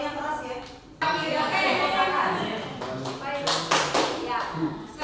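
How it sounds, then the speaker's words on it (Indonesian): A group claps a rhythmic spirit cheer during a teacher training session, with sharp claps bunched near the end and voices chanting and talking throughout. "Tepuk semangat"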